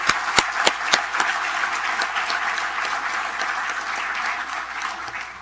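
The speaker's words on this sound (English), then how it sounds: "Let's give all of these award recipients a big round of applause." Sustained applause from an audience at a school district board meeting honoring award recipients, opening with a few sharp individual claps and then settling into steady, dense clapping that holds at an even level throughout.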